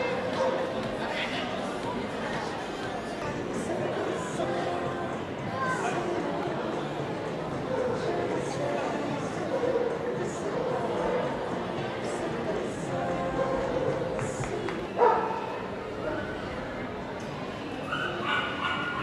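At the Animalia 2012 animal show in Liège, a dog yips and whimpers in short bursts under crowd chatter and someone speaking French in a busy indoor hall.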